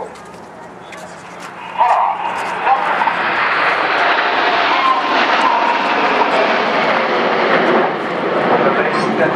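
Red Arrows jets flying the Victory Roll at the 2010 Farnborough Airshow, a loud sustained jet roar swelling and holding over a crowd, with a commentator talking over it.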